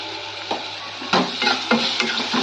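Ginger-garlic paste and cumin fry in a pan under a steady sizzle while a spoon stirs and scrapes around it in several close, rhythmic strokes, with no voices.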